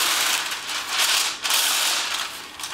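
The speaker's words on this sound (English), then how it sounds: "You just take some parchment paper," Parchment paper being pulled out and spread to line a baking sheet, a crisp, continuous crinkling and rustling close up in a kitchen, rising and falling in waves with no talking over it.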